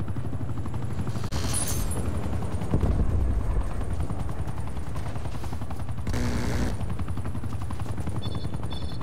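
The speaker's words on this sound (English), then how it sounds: "Enemy attack helo above." An enemy attack helicopter thumps steadily overhead in the video game Call of Duty Black Ops Cold War, its rotor pulsing loud and continuous, with bursts of gunfire and sharp impacts mixed in.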